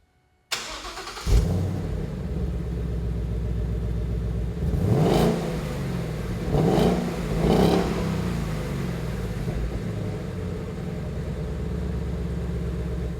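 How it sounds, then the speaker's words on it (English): A stock 2015 Ford Mustang GT V8 exhaust fires up, then idles with a deep burble and three sharp revs, loud and close, no talking. "here's some stock 2015 GT exhaust clips"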